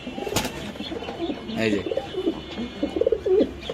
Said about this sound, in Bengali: এই যে পাগলা কবুতর